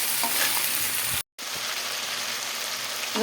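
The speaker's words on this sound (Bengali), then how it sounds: "হালকা একটু ভেজে নিচ্ছি" Drumstick (sajna) stalks and potato fry lightly in hot oil with panch phoron, giving a steady, dense sizzle that runs almost unbroken apart from one brief gap, with no voices.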